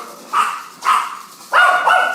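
A dog barks three times, close and loud, in evenly spaced sharp woofs with nothing else heard.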